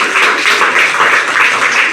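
An audience claps steadily and loudly at a notebook distribution event, filling two seconds with dense, continuous applause and no talking.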